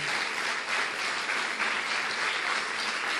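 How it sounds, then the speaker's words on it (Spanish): A church congregation claps together during a sermon, producing a steady, full wash of applause that stays loud and even from start to finish, with no talking. "Dale un aplauso a las misericordias."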